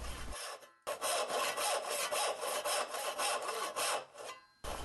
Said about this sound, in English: I'll begin sawing out the socket for the dovetail.